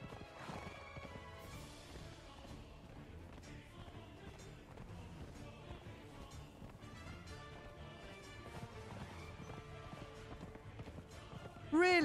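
Horse galloping in the video game Conan Exiles, with rapid hoofbeats under background music and game effects and a sharp louder burst at the very end.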